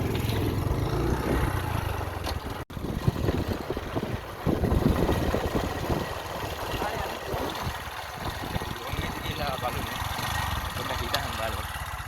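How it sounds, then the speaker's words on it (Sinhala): A motorcycle engine runs steadily nearby with a continuous idling rumble, heard under people talking and outdoor noise throughout. "යා ගානින්කෝ බයික් එක"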